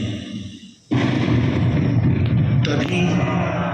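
A loud explosion effect from a light and sound show at the Cellular Jail marks the outbreak of the 1857 uprising. It begins with a sudden blast and gives way to a sustained, roaring rumble that carries on with rising hiss.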